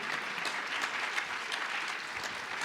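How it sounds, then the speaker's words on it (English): Audience at a Friends & Neighbors breakfast event giving Steve a round of applause: a dense, even wash of many hands clapping, steady and somewhat distant, with no speech over it. "Steve, we just gave you a round of applause"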